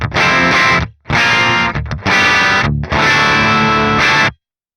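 Heavily distorted electric guitar through an Archetype Gojira X amp with the bright switch engaged, playing loud, palm-muted chugging riffs in several bursts with crisp pick attack and short gaps between them.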